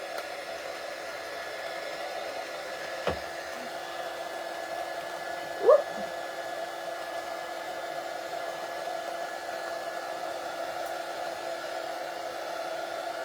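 A hair dryer blows steadily as it dries paint on a cutout, giving a constant close whooshing hum with a couple of brief knocks partway through.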